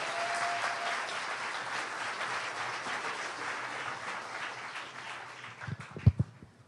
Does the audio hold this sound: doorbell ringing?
no